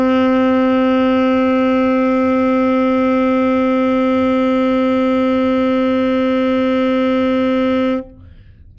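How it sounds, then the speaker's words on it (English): An alto saxophone holds a single steady A for about eight seconds, a bright, sustained tone that cuts off abruptly into near silence. "That's the sound of an A"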